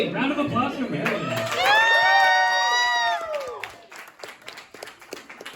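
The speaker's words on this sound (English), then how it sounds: "Round of applause for Marion." An anime convention crowd claps and cheers, with a loud high whoop rising over the clapping before fading into scattered applause and a few shouts.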